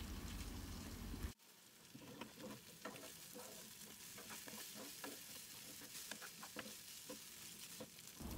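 Cabbage roll filling sizzles and is stirred in a pan while it roasts, a quiet, steady frying hiss broken by repeated scraping clicks of the spoon after a sharp cut at the start.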